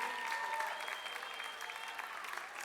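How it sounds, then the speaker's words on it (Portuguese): A church audience applauds steadily throughout, a continuous wash of hand claps at moderate distance. "Uma salva de palmas para duas integrantes da Zoe."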